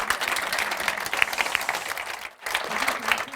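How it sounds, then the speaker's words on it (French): An audience at a political conference applauds the speakers with steady, moderately loud clapping that briefly dips near the end and then resumes. "Je vous propose d'abord de les applaudir pour leurs interventions."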